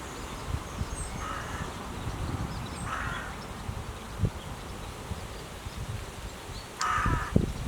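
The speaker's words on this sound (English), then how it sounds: "Oh, shut up, Jackdaw. Or crow." A jackdaw or crow gives a few harsh calls at a distance beside an electrically trimmed hedge, spaced between outdoor background noise and faint insect buzzing.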